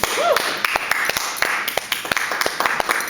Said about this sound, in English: Give her a warm round of applause